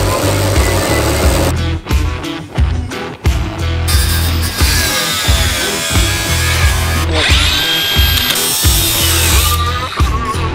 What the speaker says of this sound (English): It's really hard to cut a curve with a flat disc.